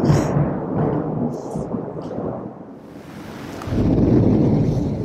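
Steady heavy rain outdoors by a house with a swimming pool, a broad wash of noise with low rumbling thunder swelling louder toward the end; no talk.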